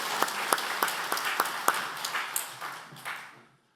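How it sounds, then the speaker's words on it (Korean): A church congregation at a men's mission prayer meeting claps in thanks after a missionary's sermon, the individual claps distinct and fairly sparse, then thinning and fading out to silence. "은혜로운 말씀을 주신 선교사님께 감사의 박수를 드리겠습니다"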